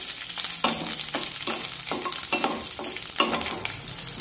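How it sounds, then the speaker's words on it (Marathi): Green chilies sizzle in oil over a medium flame, crackling steadily as a spatula turns them in repeated bursts of scraping stirs. "मध्यम आचेवर या मिरच्या परतून घ्यायच्या"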